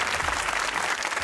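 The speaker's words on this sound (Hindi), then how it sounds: "तालियां।" A studio audience on a Pakistani comedy talk show claps briefly. The applause is short, dense and moderately loud, with no pause in it.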